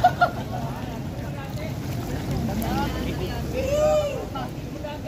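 A boat motor running on water, a low steady drone under wind and splashing, with a few rising and falling tonal sweeps and brief knocks at the start.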